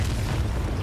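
Confringo fire spell explosion in Hogwarts Legacy, a short, loud, dense rumbling boom filling the whole moment, with no talking.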